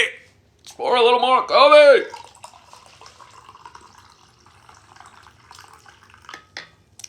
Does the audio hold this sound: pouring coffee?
yes